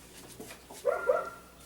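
A dog barks twice in quick succession, fairly close, after a quiet stretch of faint background noise.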